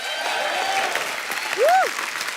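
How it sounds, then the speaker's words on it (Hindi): A studio audience at a comedy talk show claps in a broad wash of applause, with voices and a brief sliding tone rising over it near the end. "एक बार जोरदार ताली हो जाए।"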